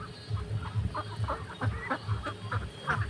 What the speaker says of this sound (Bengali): দেখুন হাঁসগুলোকে খাওয়া দেওয়া হয়েছে সকালে।